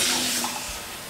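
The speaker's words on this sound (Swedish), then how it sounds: "vi får ta lite vatten och bara hälla lite på oss" Water splashing and pouring over people outdoors at a Midsummer celebration, a short continuous wash of sound that tapers off, close by with no talking.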